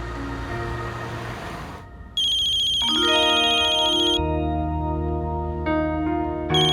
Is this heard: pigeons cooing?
no